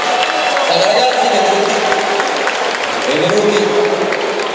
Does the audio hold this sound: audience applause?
yes